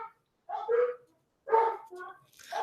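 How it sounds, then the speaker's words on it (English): Dogs bark in a few short bursts with pauses between them, fairly close and moderately loud, with no talking over them. "Okay, dogs are barking."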